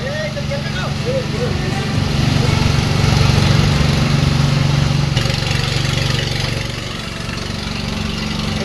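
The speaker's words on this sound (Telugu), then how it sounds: "సెల్లార్స్ లో నిలిచిపోయిన నీటిని అగ్నిమాపక సిబ్బంది మోటార్ల సహాయంతో ఇలా బయటకు తోడుతున్నారు." Fire service motor pumps drain floodwater from cellars after heavy rain in Ramayampet, a close, steady engine drone that swells in the middle and eases toward the end, with voices in the background.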